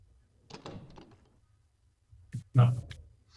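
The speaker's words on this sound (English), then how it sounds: "You just need to listen to the latch because that one sounds locked" A door latch opening in the video game Amnesia gives a short, close clack and rattle in the second half, after a brief stretch of voices earlier on.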